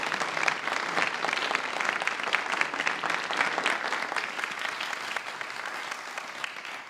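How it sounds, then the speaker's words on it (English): Forum attendees give panelists a warm round of applause, loud and sustained clapping from a large crowd filling the room evenly for about seven seconds before tapering slightly. "So let's give them a warm round of applause."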